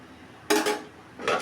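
A plate set down over a dish of chicken biryani in a home kitchen, two short ceramic clatters about a second apart, close and moderately loud.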